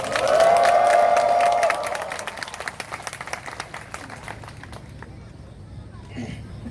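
Students at a university candlelight rally clapping, a loud burst of applause and cheering for the first two seconds that thins into scattered claps and fades as a voice speaks.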